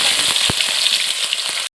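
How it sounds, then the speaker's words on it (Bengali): Bay leaves and ground spice paste sizzle in hot oil in a wok: a steady, close, bright frying hiss with a few soft knocks, ending abruptly. "কড়াইতে দিয়ে দিলাম তেল, তেলে দিয়ে দিলাম তেজপাতা, দিয়ে দিলাম বেটে রাখা মশলা।"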